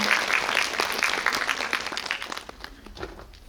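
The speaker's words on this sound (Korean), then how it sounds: "네, 여러분들 박수 부탁드립니다." A cinema audience claps at a guest visit screening in a Lotte Cinema auditorium, a brisk burst of applause that gradually thins and quiets over a few seconds.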